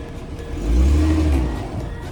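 A 2014 Ford Mustang V6, the 305-horsepower base model, revs up close by, its engine note swelling to a brief loud peak and then easing back down, with no voices.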